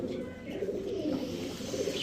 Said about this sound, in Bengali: একদম ডিপ ব্লু চোখের একটা পাখি নর কবুতর